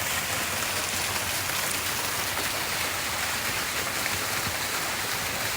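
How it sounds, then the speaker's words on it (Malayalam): Small waterfalls trickle into little pools and a well-like basin in a cool butterfly garden, producing a constant, even splashing hiss with no voices. "ഇതിൽ ചുറ്റും ഇങ്ങനെ ഫോൾസാണ്"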